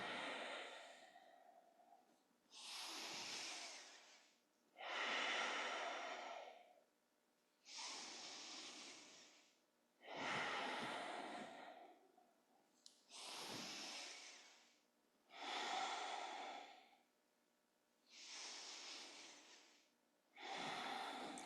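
Slow, deep breaths during a gentle yoga exercise, nine long airy inhales and exhales in a steady rhythm with short pauses between, close and soft, no talking.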